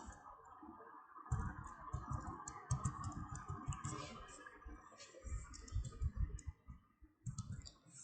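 Rapid keyboard typing and mouse clicking on a computer during Photoshop flyer design work, in close bursts of keystrokes with short pauses, at moderate volume with no talking.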